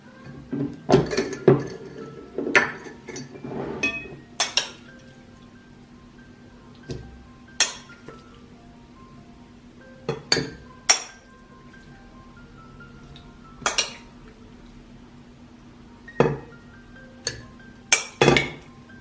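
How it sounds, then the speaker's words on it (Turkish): Sun-dried tomatoes go into an airtight glass jar, giving scattered clinks and taps of glass at uneven intervals, a busy cluster at the start and then sparse sharp knocks, close up with no voices. "Şimdi kuru domateslerimi hava aldırmayacak bu kavanozumun içerisine boşaltacağım."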